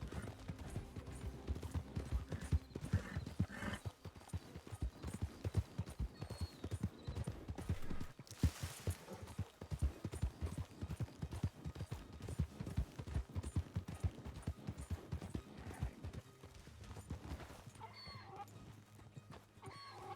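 Horse hooves clip-clop steadily on the ground in the RedM video game, a quiet continuous rhythmic walking pattern with occasional faint background sounds.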